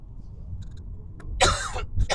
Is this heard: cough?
yes